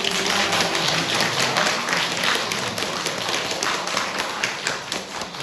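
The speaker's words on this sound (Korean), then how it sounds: "우리 환영하며 박수하겠습니다" A church congregation applauds in welcome, a steady, dense clapping that stays loud and close from start to finish, with no talk over it.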